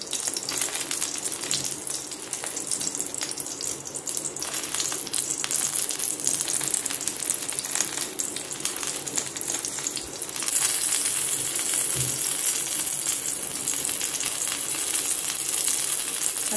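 Stuffed bell peppers, topped with grated cheese, frying in a pan, a dense steady sizzle that runs close and unbroken, growing a little louder partway through.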